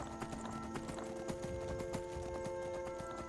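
A horse's hooves clip-clop in Skyrim in a quick, steady rhythm at moderate distance, with a faint tonal background beneath.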